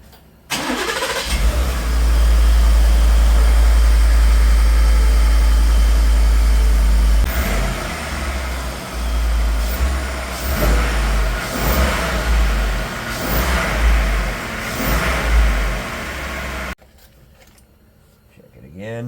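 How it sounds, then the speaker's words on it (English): A 2020 Ford F-150 XLT with the 5L engine cranks and starts loudly up close, then runs at a strong steady idle with a few blips, while voices talk over it before it shuts off. "So now we're going to go ahead and start the vehicle"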